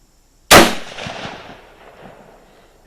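A single suppressed Kar98k rifle shot cracks sharply after a moment of silence, followed by a rumbling echo that fades over about two seconds outdoors.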